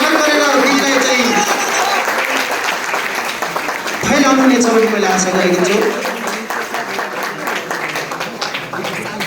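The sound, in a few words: audience applause for a song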